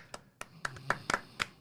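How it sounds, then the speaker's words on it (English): Podcast hosts clapping for their guest in a small studio, about seven sharp, close hand claps at an uneven, slightly quickening pace with no talking over them. "we're clapping for you"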